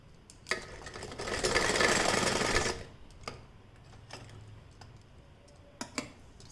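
A sewing machine stitches a piece of a Rajputi suit, running in one loud, dense burst of about two seconds and followed by scattered close clicks and taps of handling, with no talk.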